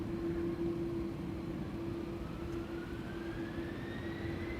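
A KLM Embraer 190 jet departs from the Polderbaan runway at Amsterdam Schiphol, heard as a steady, fairly distant engine roar with a faint rising whine and a constant hum beneath.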